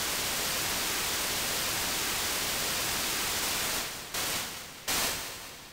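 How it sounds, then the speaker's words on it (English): White noise from the UVI Electro Suite Sweep Machine synth plugin, a steady full-band hiss that holds loud and even before dipping twice and then fading slightly near the end. "It's just white noise,"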